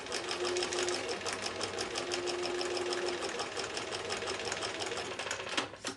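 A sewing machine stitches seams of a mini mosaic quilt block, its rapid needle clatter running loud and continuous before slowing and ending with a brief mechanical clunk onto a thread saver.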